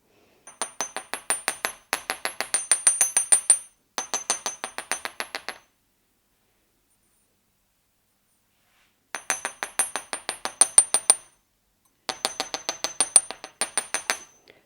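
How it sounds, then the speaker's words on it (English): A small hammer gently taps wire earring hoops to set their shape, in quick, light metallic bursts of rapid strikes separated by a long pause. "I'm now going to gently hammer them so that the shape is maintained."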